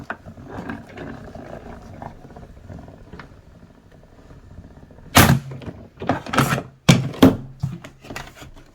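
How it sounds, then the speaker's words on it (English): A 3D embossing plate is cranked through a die-cutting and embossing machine, heard as several loud, close mechanical clunks and ratcheting grinds in quick succession after a quieter stretch. "This is the specialty plate for 3D embossing. Run that through your machine."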